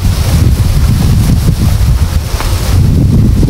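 Strong wind blasts across the microphone outdoors as a steady, loud roar and rumble that fills the whole moment with no break.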